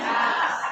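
A crowd at an Islamic religious gathering welcoming Ramadan lets out one loud, sustained shouted cheer, many voices blending into a single close roar.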